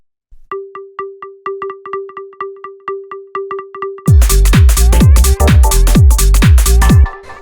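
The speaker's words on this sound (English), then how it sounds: "Then we have this little synth pluck, which sounds like this." A short, repeating synth pluck from a minimal deep house track ticks alone in a quick, even rhythm before a loud, dense beat kicks in beneath it.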